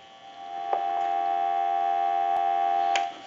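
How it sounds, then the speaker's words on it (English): A telephone dial tone from an amplifier on an artist-painted Trimline phone under repair: a steady, close, continuous tone that starts after a short quiet lead-in, with a few faint clicks, then cuts off. "Give you some dial tone"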